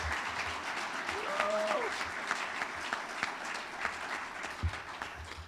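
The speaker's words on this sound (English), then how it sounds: "let's give them another big round of applause" A crowd applauds continuously, a dense wash of clapping at steady volume, with a voice briefly audible in the middle.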